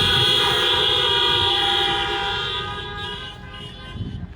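Car horns honk together at an outdoor drive-in political rally in bad weather, a long sustained blare of overlapping tones that fades somewhat toward the end.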